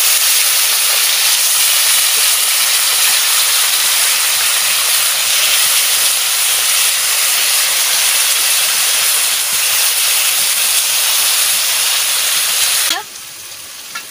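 Masala-coated fish fries in a hot wok, giving a loud, steady sizzling hiss that continues without a break and then drops off suddenly near the end.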